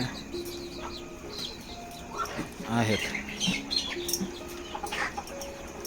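Hens and chicks in a brooding shed in cold weather give soft clucks and faint cheeps that sit beneath someone speaking.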